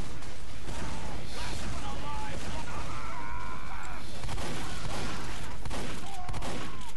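Repeated pistol shots crack in Team Fortress 2 amid busy game clatter and metallic mechanisms, fairly loud and continuous, with faint talk underneath.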